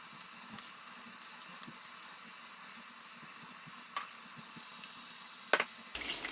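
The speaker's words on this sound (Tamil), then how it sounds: "இப்போ எண்ணெய் சூடாறிட்டு இதில் நான் இப்போ ஒண்டா போட்டு பொரித்து எடுக்க போகிறேன்." Prawns fry in hot oil with a soft, steady sizzle and small crackling pops throughout, quiet and close, with a couple of sharper clinks near the end.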